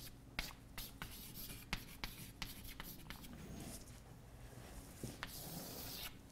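Chalk or marker scratching out a word on a board during a mathematics lecture, a series of short, quiet taps and strokes with faint room noise and no talking.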